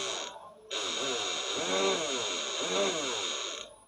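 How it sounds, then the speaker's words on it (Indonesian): An engine fitted with a homemade DC CDI ignition revs up twice in rising and falling swells from a steady idle, close and fairly loud. "ini digeber sampai ribuan RPM berapapun dia tidak akan limit ya coy"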